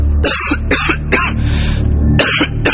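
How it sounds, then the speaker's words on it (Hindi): Repeated harsh coughing from a man in a Hindi horror audio story, four close, loud bursts in an uneven rhythm over a dark background drone, with no speech. "फूमियो हंसता ही जा रहा था और तभी हंसते हंसते वो खांसने लगा।"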